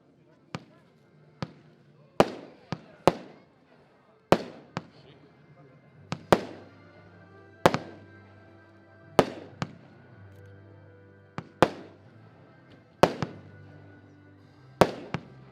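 A fireworks battery fires a rapid series of sharp, loud cracking shots spaced unevenly but quickly, each bang ringing out and decaying, with a faint hum between bursts.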